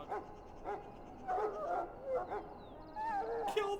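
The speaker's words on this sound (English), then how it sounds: "You are a big fucking dog." A large dog in the Dragon Age Origins video game gives repeated whimpering yips and bow-wow barks, with whiny, howl-like cries in several short bursts over faint game ambience and no talking.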